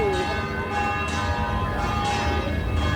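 Cathedral bells ring in repeated, resonant strikes with long overlapping hum, steady and fairly close, over faint background noise.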